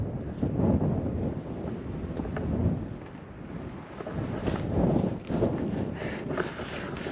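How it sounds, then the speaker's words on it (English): Wind gusts buffet the microphone on a mountain climb as clouds come down, a loud, rough, continuous rumble that swells and eases in waves. "Wind's getting up, clouds coming down"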